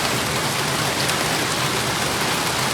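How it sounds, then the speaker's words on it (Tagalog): Heavy rain roars steadily and loudly, a dense unbroken hiss close by with no talking. "Lalong lang malakas ang ulan ngayon"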